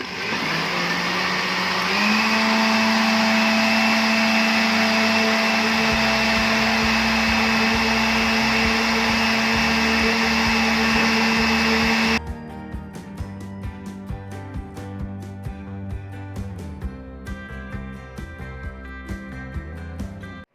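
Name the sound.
electric mixer mixing cake batter ingredients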